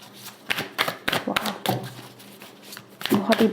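Tarot cards are shuffled and drawn by hand in a run of quick papery riffles and flicks, close up and crisp, while someone talks over them.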